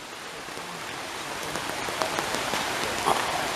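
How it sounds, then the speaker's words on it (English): Rain falls steadily on a camping shelter outdoors, a dense, close patter of drops that grows slightly heavier, with a few louder drips near the end. "Cue the rain. Yeah, bloody rain."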